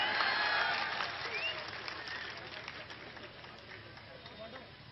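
An outdoor political rally crowd in Belgaum claps and applauds for Navjot Singh Sidhu. A loud burst of dense clapping fades gradually over several seconds, with crowd noise and voices mixed in.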